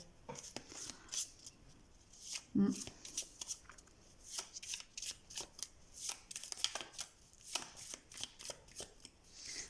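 Angel oracle cards are shuffled by hand in repeated quick riffling bursts, crisp and close, with a voice speaking softly underneath.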